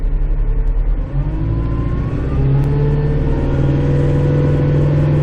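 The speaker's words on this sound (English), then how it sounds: "Now let's get the snowblower on the go again." Snowblower engine on a snow plow truck in the first snow storm of 2021, a loud, steady low drone heard from inside the cab that climbs as the revs come up and then holds.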